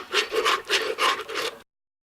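Scrub Daddy sponge scrubbing cold glass with dish soap: five rhythmic rasping strokes in quick succession, close and fairly loud, ending abruptly.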